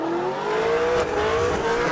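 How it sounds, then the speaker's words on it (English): A drift car spins a 360 at the finish line of a drift challenge, its engine droning in a high sustained note that slowly rises, with a tire-squeal wash and crowd-like hiss around it, loud and near. "The driver opted for a 360 at the finish line."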